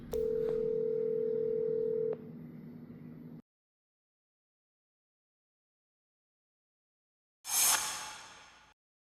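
A phone call goes unanswered: a steady tone plays for about three seconds, then cuts to silence, and a short burst of noise follows near the end.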